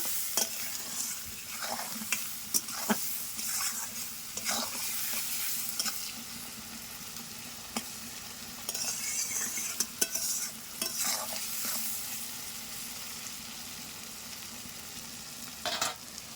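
Chicken sautéing in a pan with salt and turmeric, a steady low sizzle broken by repeated scraping stirs of a spatula, close and fairly quiet, with no talking.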